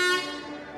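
Brief warning horn blast signalling competitors at a bed-endurance marathon: one loud, steady tonal toot that fades slightly over under a second, with no talking.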